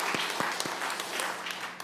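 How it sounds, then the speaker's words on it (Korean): A church congregation at a Sunday worship service applauds in congratulation and encouragement for their pastor, with a continuous wash of clapping that holds steady and then tapers slightly at the end. "우리 목사님 큰 축하의 박수, 우리 격려의 박수로 함께 해주시면 감사하겠습니다."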